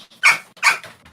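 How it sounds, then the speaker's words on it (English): A dog barks three times in sharp, loud, close bursts, evenly spaced with short quiet gaps between them and no talking. "I can barely hear you over that dog."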